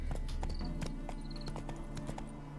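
Roach, the horse in The Witcher 3, clops its hooves in a quick, irregular rhythm over a steady game music drone, with faint chime-like tones. The hooves sound moderately close.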